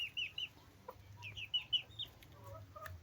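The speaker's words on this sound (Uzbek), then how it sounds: "Mana bu ham xo'roz." A young rooster gives a quick series of soft, close clucks in short bursts, with quiet gaps between them.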